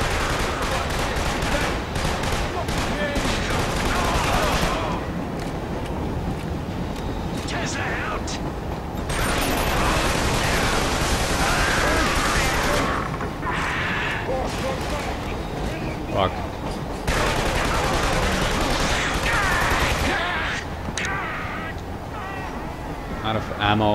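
Gunfire in the shooter game Killzone 2 on Elite difficulty, with rapid bursts and repeated shots crackling almost nonstop, while a player talks over the fighting.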